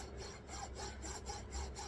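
A metal file rasps back and forth across wood by hand in a steady rhythm of about eight quiet, close strokes.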